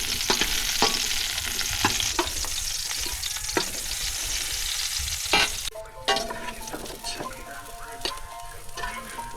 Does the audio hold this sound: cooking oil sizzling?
yes